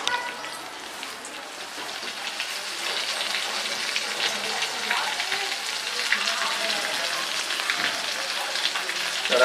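Fish roe (gaboli) frying in a pan gives a dense, continuous sizzle like steady rain, holding close and even throughout.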